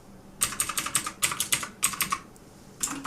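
Rapid clicky keystrokes on a Motospeed K97 RGB mechanical keyboard with blue switches, close and crisp, in quick bursts with a short pause near the end.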